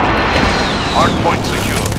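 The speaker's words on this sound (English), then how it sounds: "Precision airstrike on the way." Precision airstrike explosions rumble in Call of Duty Modern Warfare multiplayer, a continuous loud, dense roar of blasts and gunfire with swooping whistles overhead and voices mixed in.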